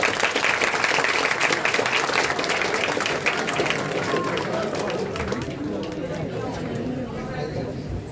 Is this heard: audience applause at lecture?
yes